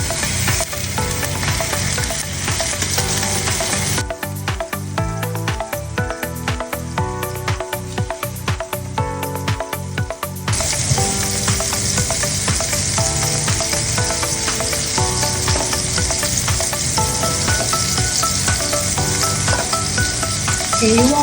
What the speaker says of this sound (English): Can you all hear that sizzle?